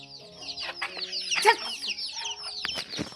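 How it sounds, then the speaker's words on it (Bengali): Chickens cluck and squawk at close range while feeding in a village yard, with a brief flurry of wing flapping partway through, mixed with other bird calls and faint background voices. "এই দেখো মুরগি এসে এসে খাইতেছে"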